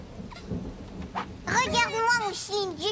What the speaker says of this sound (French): C'est le tonnerre qui lui fait peur.